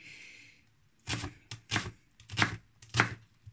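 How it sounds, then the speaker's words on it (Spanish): A knife chops tomato into fine small cubes on a board, giving four or five crisp, evenly spaced taps at close range after a brief quiet start. "Cortamos en cuadraditos muy finos, todos de un mismo tamaño."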